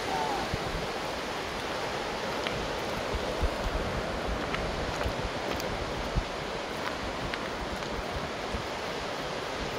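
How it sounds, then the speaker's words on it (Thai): A mountain stream in Switzerland runs steadily along a hiking trail near a suspension bridge, giving a constant, fairly faint rushing wash with no clear breaks. "อันนี้ไม่ใช่น้ำตกนะอันนี้น้ำห้วย"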